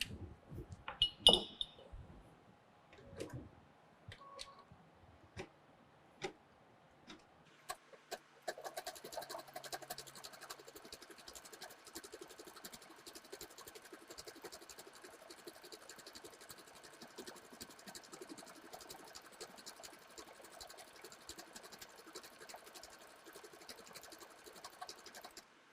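An embroidery machine stitches a tack-down around fabric held in a hoop, a quiet, fast, steady mechanical chatter that starts after a few scattered clicks and handling knocks and then runs evenly for the rest of the span.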